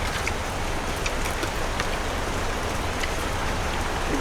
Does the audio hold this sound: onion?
no